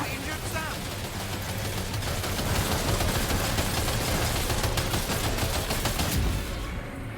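Video game gunfire as a dense, continuous barrage of rapid shots, loud and close, rolling on for several seconds with a voice faintly underneath.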